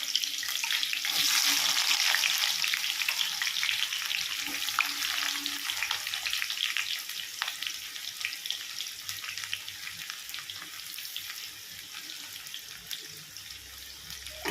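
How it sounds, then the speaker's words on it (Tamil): Onions frying in a pan for a prawn and spinach stir-fry, a steady close crackling sizzle that runs the whole time with occasional louder pops and stirring scrapes, no voices. "இப்போ நான் வெங்காயம் போடுறேன்"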